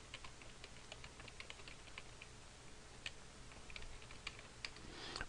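Someone types quickly on a computer keyboard in a quiet room, producing a close, faint, irregular patter of key clicks throughout, with no talking.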